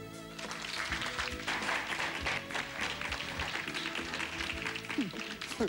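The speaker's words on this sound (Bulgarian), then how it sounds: "Вашите аплодисменти за ненормално забавния водещия Геро." Studio audience applauds a show host on a Bulgarian newlywed comedy show, steady clapping filling the clip over a loud band playing underneath.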